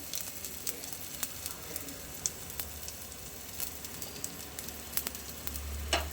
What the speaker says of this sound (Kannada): ಇವಾಗ ಹಿಂಗೆ ಹಾಕ್ಕೊಂಡು ಅದನ್ನು ಫ್ರೈ ಮಾಡ್ತಿದ್ದಾರೆ